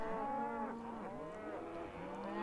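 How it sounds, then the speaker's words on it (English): Cattle moo loudly and repeatedly at a sale barn in Farming Simulator 17, several overlapping calls with drawn-out falling tones filling the whole stretch, no talk. "The animals are quite noisy."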